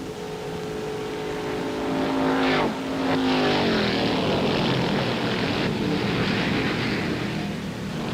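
1961 NASCAR Grand National stock cars at the Firecracker 250 roar past loudly, one engine note sweeping down as it passes close, followed by a dense, sustained wall of engines from the pack.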